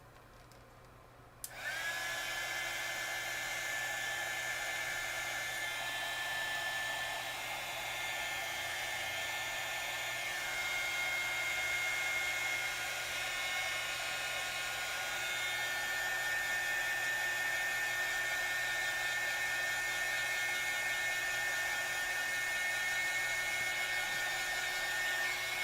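A hair dryer switches on abruptly and runs as a loud, steady whine for the rest of the clip while drying a wet watercolour painting of flower petals. No one speaks.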